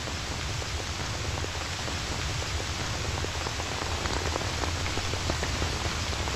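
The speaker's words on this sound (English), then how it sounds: "The rain is colder than I thought." Steady rain pours down, a dense even hiss with scattered droplet patter on surfaces, continuous and close.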